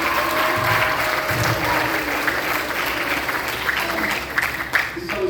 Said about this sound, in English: Round of applause for the 8th grade band.